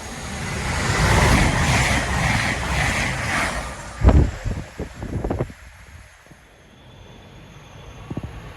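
A Meridian passenger train passes at Sawmills, Derbyshire, heading north to Sheffield, a broad rushing roar that swells and then fades, followed by a few rattling knocks as it moves away, with wind noise and no speech.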